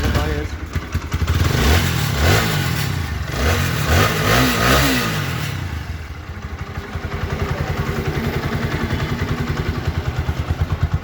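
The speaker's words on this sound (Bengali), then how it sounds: "এবার আপনাদের একটু বাইকের সাউন্ডটা একটু দেখাই দিই।" A second-hand TVS Apache RTR 4V motorcycle engine runs close by, revving up and down in bursts and then settling into a rhythmic idle chug, with someone talking over it.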